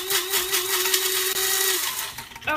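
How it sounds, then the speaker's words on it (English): An electric grinder whirs steadily as ashwagandha latte ingredients are ground to powder, a loud continuous motor whine that cuts off near the end before briefly starting again. "Let me just grind a little bit more."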